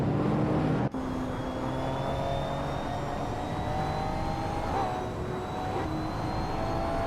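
A 1996 Lamborghini Diablo in a racing video game launches off the line, its engine roaring in a steady rising drone after an abrupt start, loud and close throughout.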